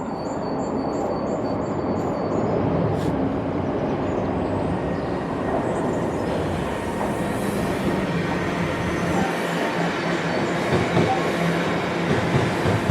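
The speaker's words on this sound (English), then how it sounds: "So we've got a train coming through now." A train rumbles past with a steady roar and rhythmic wheel clatter on the rails, loud throughout, with faint squeals.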